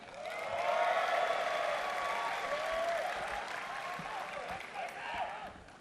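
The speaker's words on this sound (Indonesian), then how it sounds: "makin muda makin kencang tepuk tangannya." Large audience at the HIPMI 50th anniversary gathering applauding warmly and continuously, with cheering voices rising above the dense clapping for several seconds.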